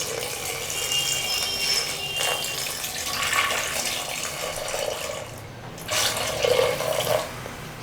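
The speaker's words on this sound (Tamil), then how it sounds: "தேவையான அளவுக்கு தண்ணி சேர்த்துக்கலாம்" Water poured from a jug or tap into a pot of moringa leaf soup, a steady splashing pour running throughout with brief dips and swells in flow, no voices.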